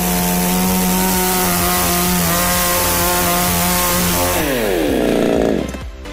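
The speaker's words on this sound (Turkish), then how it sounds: "Kingsaw testere o kadar hafif ve kullanışlı ki bakın bayanlar bile çok kolay kullanıyor" A Kingsaw petrol chainsaw cuts firewood, its engine screaming loud and close at steady revs before the pitch sags as it bogs into the wood, then the whine cuts off abruptly near the end.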